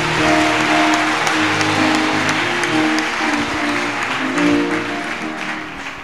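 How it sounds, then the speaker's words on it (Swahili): A church congregation bursts into loud, sustained applause, dense clapping from many hands filling the room evenly from start to finish with no talking over it. "Mpe Yesu makofi kabisa."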